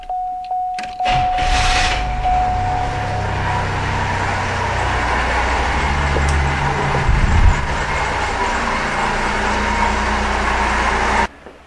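A running car idles with its lights switched on, a steady low engine hum and broadband whir held for about ten seconds after a brief click and short tone at the start, then cutting off abruptly.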